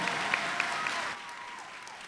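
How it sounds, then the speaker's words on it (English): Audience applause at a Palm Beach Lakes High School graduation ceremony greeting the superintendent, a dense steady wash of many hands clapping that drops to a lighter, thinner patter partway through. "Let's give a big round of applause to our superintendent,"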